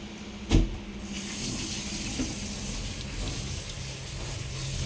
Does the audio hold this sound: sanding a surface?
no